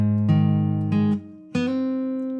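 Plucked guitar string with two quick hammered-on notes rising in pitch, each ringing out clearly; close and solo, no voices.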